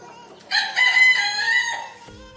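A single rooster crows loudly and close by, one long drawn-out call lasting over a second, with no voices around it.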